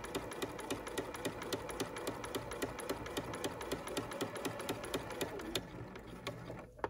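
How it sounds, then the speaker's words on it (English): A sewing machine stitches fabric in a fast, even mechanical patter of needle strokes that runs steadily and then stops near the end; no voice is heard. "so that I can pull it just a little bit as I finish stitching, guide it along"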